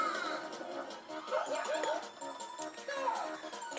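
A pet dog whimpers and yips indoors, with high whining cries rising and falling at moderate volume, mixed with some background game sounds and faint talk.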